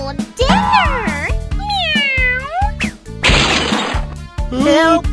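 A cartoon cat gives loud, close, sliding meows, several drawn-out cries in a row, mixed with a burst of noisy scuffling and steady background music in a children's story.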